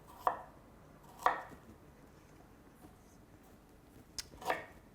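A kitchen knife cutting peeled ginger on a board for carrot soup, four sharp chops spaced unevenly over a quiet background, close but fairly soft.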